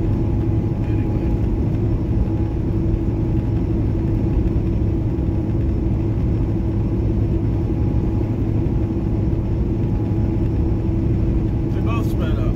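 Cars accelerating on an open road in the Echo Canyon area, heard as a steady loud engine and road rumble with a constant low drone and no distinct pass-by peak.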